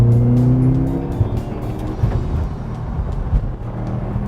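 An all-wheel drive car corners around a curve, its engine note sliding down and then settling into a rough, loud road rumble as the tires work the pavement, close to the listener with no talk.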